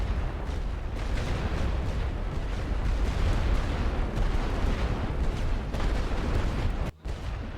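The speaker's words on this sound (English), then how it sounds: "We've got a lot of artillery fire coming in." Artillery fire in the World War One strategy game The Great War: Western Front, a dense continuous rumble of distant shelling with overlapping booms, loud and steady throughout, cutting out briefly near the end.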